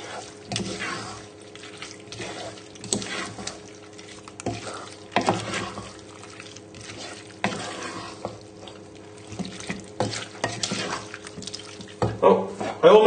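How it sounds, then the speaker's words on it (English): A spoon stirs a chicken and mushroom pasta bake mixture with chopped parsley in a pan, giving repeated scraping and squelching strokes, close and fairly loud, with intermittent kitchen clatter. "give everything a stir together"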